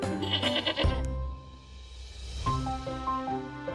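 A goat bleats loudly at the start, followed by quieter bleating and animal calls over a busy, harmonic background.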